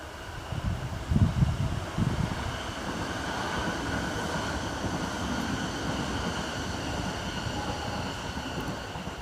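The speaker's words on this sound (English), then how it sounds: "Well, let the train go by." A train rumbles past at a moderate distance, a steady low roar of wheels and cars with some heavier thumps early on.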